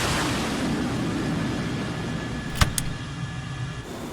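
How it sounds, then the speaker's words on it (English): Steady, rushing jet roar from an F-14 Tomcat on afterburner during a carrier launch in Microsoft Flight Simulator 2020, a moderate continuous wash of noise with a couple of sharp clicks partway through. "And afterburner, and the brakes aren't going to hold it on afterburner"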